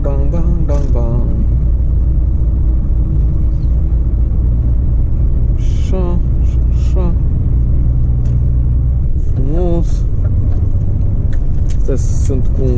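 An old orange tractor-unit truck's engine rumbles steadily and loudly the whole time from inside the cab, while someone talks over it.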